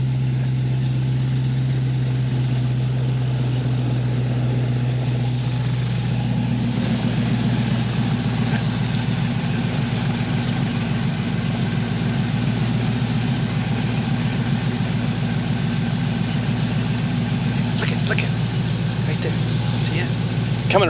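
An airboat engine in the Florida Everglades drones loudly and continuously up close, its low roar thickening and rising partway through as the boat powers up, with voices mixed in.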